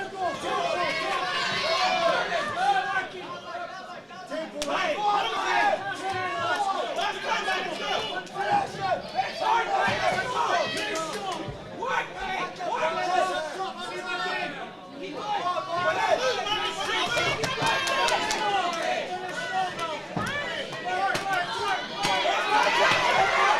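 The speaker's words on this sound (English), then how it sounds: "they can't hear it over the crowd noise" A boxing crowd at an amateur academy home show roars and chatters steadily throughout a bout, loud and continuous, with a commentator talking over the noise.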